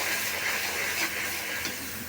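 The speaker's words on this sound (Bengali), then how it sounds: "মশলাগুলো একটু কষিয়ে নেব।" Ground spices, including turmeric and chili powder, fry in a pan for a sea-fish curry, giving a steady, dense sizzling hiss at close range with no voices.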